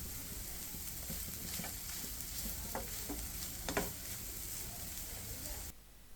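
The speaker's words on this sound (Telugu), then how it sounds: "పచ్చిమిర్చి వెల్లుల్లి ముక్కలు వేయాలి ఇంగువ పసుపు వేయాలి" Green chillies, garlic pieces, asafoetida and turmeric sizzle softly in oil while a spoon stirs, scraping through the pan a few times before the sound cuts off near the end.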